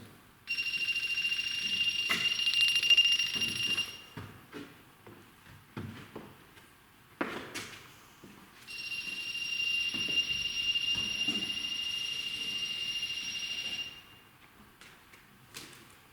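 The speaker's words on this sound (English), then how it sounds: "I'm going to set the REM pod off." REM pod paranormal detector alarm in a quiet church, sounding as a steady high electronic tone in two long bursts of about three and four seconds, separated by quiet shuffling and a sharp knock.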